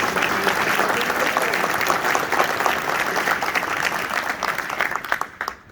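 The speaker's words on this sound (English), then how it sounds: "Let's give them a round of applause." Sustained applause from a legislative chamber audience honoring state legislators, dense and steady throughout before tapering off at the very end, with a faint voice under it.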